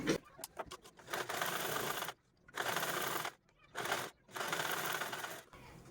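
A sewing machine stitches along the side seam of old jeans in short bursts of rapid mechanical clatter separated by brief pauses, close and fairly quiet, with no talk.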